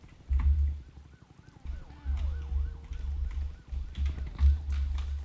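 A wailing police siren in the Roblox Jailbreak video game, rising and falling repeatedly at moderate volume beneath bursts of low rumbling game noise.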